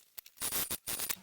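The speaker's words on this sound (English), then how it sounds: "I'm going to make a tiny snip just before I get to the zipper tape, but within my seam allowance" Sharp scissors make a few quick close snips through fabric near a zipper tape during sewing, crisp cutting sounds in a quiet room.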